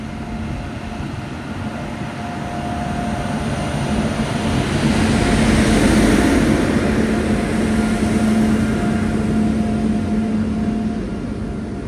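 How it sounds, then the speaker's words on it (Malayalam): Kannur–Yesvantpur Express pulls into platform 3, a loud, steady rumble of wheels and carriages that swells midway with a sustained tonal whine on top. "Train number 165-28 Kannur Yesvantpur express ഇത് പ്ലാറ്റ്ഫോം നമ്പർ 3 കടന്നു വരികയാണ്."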